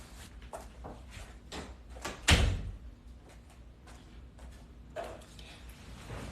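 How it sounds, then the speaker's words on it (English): One solid thump as a door is shut nearby stands out midway through, surrounded by softer knocks and shuffling movement in a room. "shut the door behind you"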